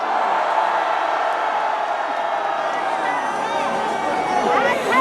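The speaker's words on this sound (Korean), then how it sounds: "다 같이 함성 부탁합니다" A large crowd at a Save Korea political rally in Daejeon roars in a loud, sustained shout of cheers that swells and holds for several seconds with no single voice standing out.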